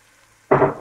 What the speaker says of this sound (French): Je vais les faire rissoler un petit peu avant de mettre mon bouillon